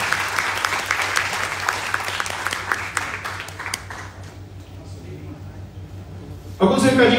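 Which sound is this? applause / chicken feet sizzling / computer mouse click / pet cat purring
applause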